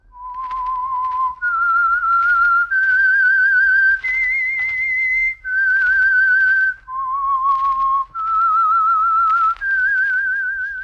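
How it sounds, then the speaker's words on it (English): A clear solo human whistle carries the signature theme of The Whistler radio mystery, a slow melody of sustained, slightly wavering notes in short phrases with brief breaths between them, close and prominent with no talk. "That whistle is your signal for the Signal Oil program, The Whistler."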